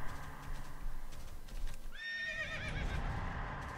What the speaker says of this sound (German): Muss man dann öfter wiehern oder wie läuft das?